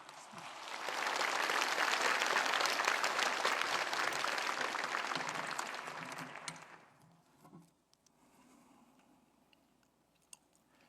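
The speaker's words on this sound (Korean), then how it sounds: "우리 용열 목사님 뜨거운 박수로 환영해 주시기 바랍니다" A church congregation applauds warmly to welcome a visiting pastor, a seminary preaching professor: dense, loud clapping swells for about six seconds, then fades into faint room noise with a few scattered claps.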